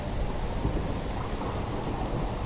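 Rain pours steadily with a deep rolling thunderstorm rumble in the video game Tormentum II, an even, unbroken wash of sound with no voices.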